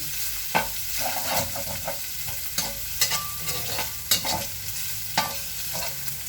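Minced pork sizzles steadily in a pan, with a spatula scraping and clacking against the metal every second or so, loud and close with no talk.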